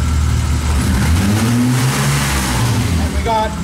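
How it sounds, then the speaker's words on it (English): A car engine revved up during an alternator and charging-system test, a loud close roar whose pitch climbs and holds steady, with a voice speaking over it. "rev it up please"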